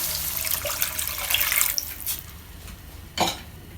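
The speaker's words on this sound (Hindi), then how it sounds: "अब हम इसमें आधा कप पानी का डालेंगे" Half a cup of water pours and splashes into a pan of masala pasta for a couple of seconds, then a brief cough follows after a short pause.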